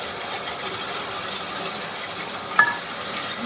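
A spoon stirs fried vegetables seasoned with salt and sugar in a pan for a navaratna egg curry, giving a steady scraping sizzle with a few sharper clacks, close and alone.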